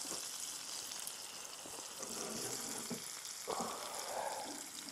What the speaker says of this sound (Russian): на этой сковороде я еще макароны пожарю